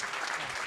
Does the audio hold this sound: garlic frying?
no